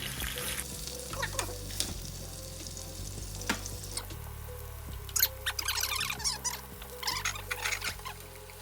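Pork sears in olive oil in a hot pan with a steady, moderately close sizzle and crackle, alongside intermittent scraping and tapping of utensils.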